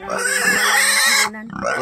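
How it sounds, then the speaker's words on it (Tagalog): A farm pig grunts and squeals loudly and close by, a sustained nasal oink lasting over a second before breaking off, followed by a shorter grunt. "Yan po ang baboy po niya."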